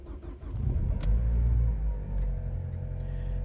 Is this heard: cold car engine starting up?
yes